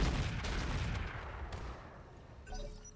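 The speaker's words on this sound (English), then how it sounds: "we're just going to drop artillery on the Plainsman" Artillery fire in the RogueTech BattleTech mod landing on a Plainsman, a rumbling series of low booms and blasts fading out, then a brief game interface chime.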